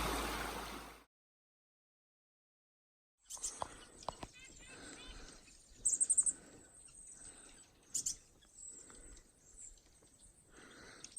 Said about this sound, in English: So many birds up here.